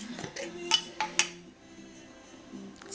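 Chopped garlic dropped into a pan of homemade ghee, with a few sharp metallic clinks of a utensil against the pan and a faint low sizzle underneath.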